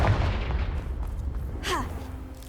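A Confringo blasting curse goes off in Hogwarts Legacy, a deep rumbling blast with a brief rising magical whoosh near the end, sustained at moderate loudness.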